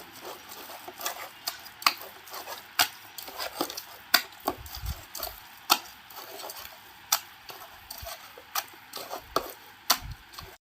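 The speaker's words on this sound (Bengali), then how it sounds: "এবার আমি এই সমস্তগুলিকে ভালোভাবে হাত দিয়ে মিশিয়ে নিচ্ছি" Palm fruit pulp mixed with sugar by hand for Bengali taler bora, giving soft wet squelches and sharp clicks in an irregular rhythm, close and fairly quiet.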